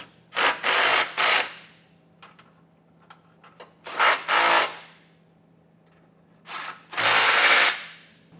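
A power tool spins down bolts while a Curt trailer hitch receiver is fitted to a 2024 Honda Passport, running in five loud whirring bursts of roughly half a second to a second each, separated by quiet pauses with faint handling clicks.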